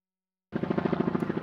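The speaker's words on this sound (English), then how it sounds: "Another freaking helicopter." A helicopter flying overhead: rapid rotor thumping starts abruptly and pulses steadily, fairly loud, with a rhythmic chopping beat.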